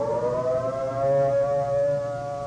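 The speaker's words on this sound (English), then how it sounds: "The attack warning signal is a 3 to 5 minute wavering sound on" A civil defense attack warning siren wails in a steady, wavering tone, loud and continuous throughout with no voices.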